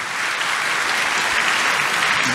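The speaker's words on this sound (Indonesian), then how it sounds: "Boleh tepuk tangan yang paling meriah buat Tuhan." Congregation at an Indonesian church service applauding loudly for God, a dense, sustained roar of many hands clapping close by, with no speech over it.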